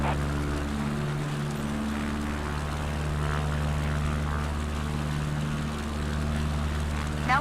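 A propeller airplane taking off and climbing in Microsoft Flight Simulator 2024, a steady droning engine and airscrew hum, loud and continuous with a constant pitch.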